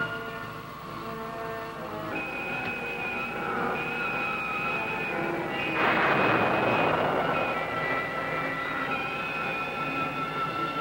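A spacecraft engine's thrust in a science-fiction film swells steadily, a broad roaring rumble with sustained tonal whine that builds and thickens toward the middle and stays loud to the end, with no voices.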